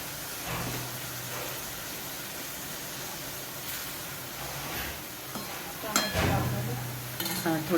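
Tomatoes saute in a pan for paneer bhurji with a soft, steady sizzle. A spoon scrapes and clinks against the pan now and then, and someone talks quietly.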